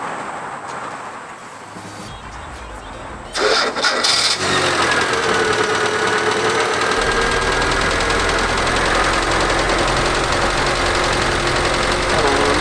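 Ford Festiva engine with beer poured in as coolant, starting up loud after a quiet stretch and running steadily with a rough, rattly idle throughout.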